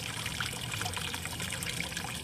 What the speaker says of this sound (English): This is us getting them acclimated in a form of drip acclimation.